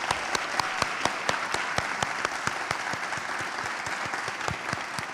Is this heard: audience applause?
yes